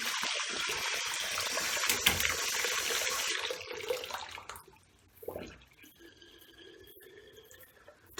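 Hot water runs from a tap in a steady, close gush for several seconds, then shuts off and gives way to quieter dripping and faint trickling.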